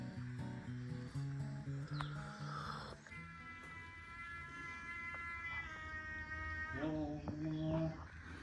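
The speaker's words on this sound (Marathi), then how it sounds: "रानटी मांजर सारखं आहे करते" A wild cat meows repeatedly, its drawn-out, wavering cries rising over a busy outdoor farm background with birds and rustling noise.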